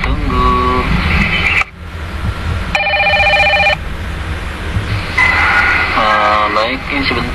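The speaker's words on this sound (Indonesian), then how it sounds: "ini sebentar kayaknya ada telepon yang masuk" A telephone rings with an incoming call, bursts of electronic ringing tones alternating with a busy noisy background, loud and near.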